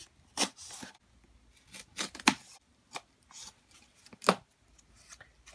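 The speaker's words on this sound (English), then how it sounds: "you can use something like this box cutter, and that will help you to cut it. So see how it just slices right through?" A box cutter slices and trims cardboard into a rounded shape, making several short, close, rasping cuts in uneven bursts with quiet pauses between them.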